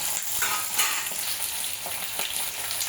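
Green chillies fry in a hot pan with steady, dense sizzling and crackling from close by. Occasional stirring scrapes sound underneath, and no one speaks.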